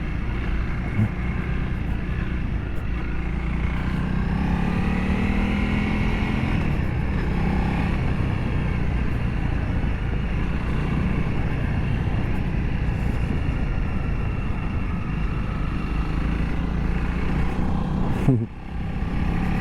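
Honda CRF 300L dual sport motorbike being ridden, a continuous steady engine drone mixed with wind rush, heard from on the bike throughout, with a brief bump near the end.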